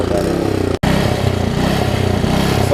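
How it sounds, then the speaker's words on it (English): Troy Bilt Tuffy tiller engine with its air filter refitted, still running rough; a loud, close, steady small-engine chug with uneven beat and a brief cut-out partway through, running alone. "As you can hear after I put the air filter on, it's still doing the same thing."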